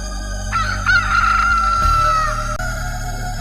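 A rooster crows loudly in one long drawn-out call, with chicken clucks around it and a steady low background hum.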